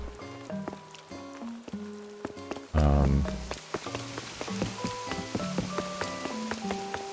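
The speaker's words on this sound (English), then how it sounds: "Oh, you're getting so rained on, Sion." Steady video game rain patters on a surface, mixed with in-game music and a brief louder burst of sound partway through, with no one talking.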